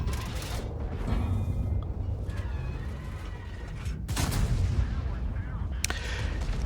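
A Foch 155 tank destroyer fires in World of Tanks on the Kharkov map: several sharp, booming game gunshots cut through a steady mechanical rumble and creaking.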